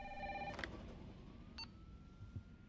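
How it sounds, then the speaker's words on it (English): A telephone rings in the video game Resident Evil 3 Remake, short electronic trills and beeps that are faint and fairly distant, with no voices over them. "Eventually the phone rings."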